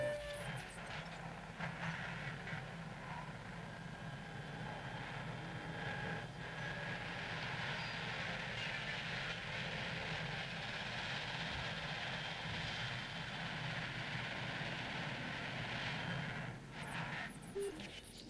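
Helicopter in Jurassic World Evolution flying with a steady, droning engine and rotor roar that holds at an even level throughout, with a few faint game sounds layered over it.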